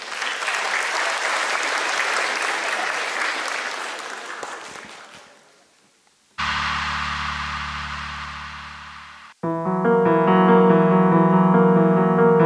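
A school audience applauds a team from Kryvyi Rih Gymnasium No. 78 at a school battle show. The loud, dense clapping fades out after about five seconds and is followed by a brief pause and then music.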